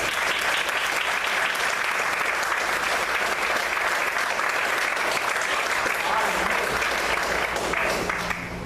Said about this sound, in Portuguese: Vamos aplaudir o Senhor com muita alegria